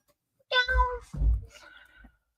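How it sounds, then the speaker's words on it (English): A pet cat meows indoors, two or three short plaintive calls in quick succession, close and clear against a quiet room, with no talking during the cries. "I think Kitty's trying to make up for me not making noise."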